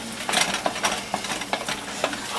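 Potatoes cook in a pan with a soft, steady sizzle, broken by a handful of scraping and stirring strokes from a utensil, close and clear with no talk.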